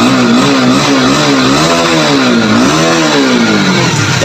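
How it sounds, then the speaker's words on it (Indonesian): A Honda CBR motorcycle engine with 26,000 km revs loudly up close, its pitch climbing and dipping in repeated throttle blips over a few seconds. "Motor siap di geber."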